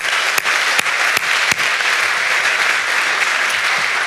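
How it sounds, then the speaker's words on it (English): An audience at a school event applauds after a preschool performance, a steady wash of many hands clapping with a few sharp, close claps standing out. "One more round of applause while they exit."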